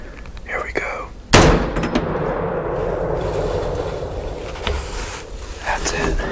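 A .450 Bushmaster rifle is fired at a doe in a field. There is a single loud, close crack, followed by steady outdoor wind and rumble, with no talking.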